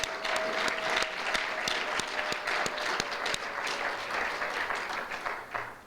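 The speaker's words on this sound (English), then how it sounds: "Give yourselves a round of applause" At the Steel City CodeFest hackathon, a large audience bursts into steady, sustained applause, many hands clapping in a dense wash that holds for about six seconds before tapering slightly at the end.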